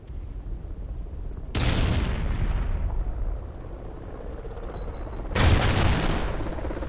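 Grenade blasts in a video game: two loud broadband booms, the first lingering in a long rumbling decay, the second a few seconds later, with no talk over them.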